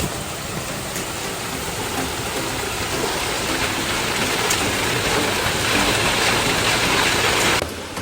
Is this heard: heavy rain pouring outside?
yes